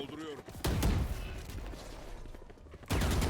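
Gunfire in the Valorant shooter game, with sharp weapon bursts near the start and again at the end, heard over a player's voice talking through the match.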